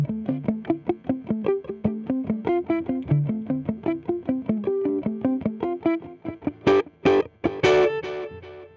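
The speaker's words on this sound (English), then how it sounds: "I have a bit of tape echo" Electric guitar through a Vox Cambridge 50 amp with tape echo, a steady run of picked notes trailing repeating echoes, building to louder strummed chords near the end, with no voices.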